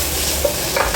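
Jjajang sauce with vegetables and shrimp sizzling and being stirred in a hot pan, with scraping and crackling throughout and no talking.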